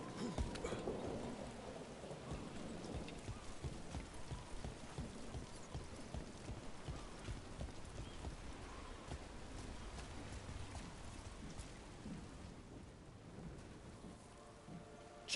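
Steady rain with low rumbles of thunder in the fantasy role-playing game Dragon Age: The Veilguard, a continuous wet hiss with deep, muffled rolls underneath, heard on its own without voices.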